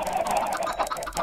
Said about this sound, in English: the chickens are way too loud